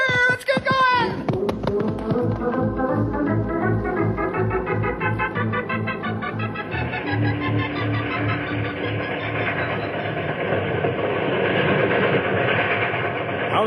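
A radio-drama sound effect of a steam train running down a winding mountain track: loud, steady rhythmic chugging and rolling clatter with hissing steam, building continuously throughout, alone without talk.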